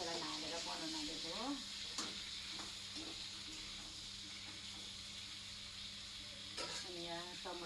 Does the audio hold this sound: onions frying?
yes